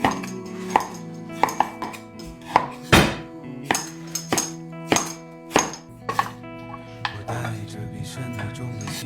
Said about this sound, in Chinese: 羊肉我们可以把它切成块，也可以切成片儿